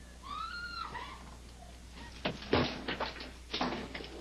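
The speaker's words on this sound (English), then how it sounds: "When I kicked the door" Police officers kick in a door during a raid, a series of loud heavy thuds and bangs, several in quick succession, after shouting voices at the start.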